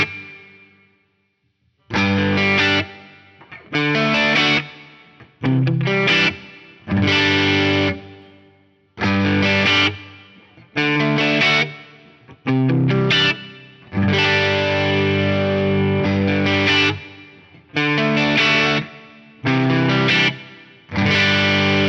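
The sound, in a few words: Axe-Fx III guitar reverb, ultra high vs economy quality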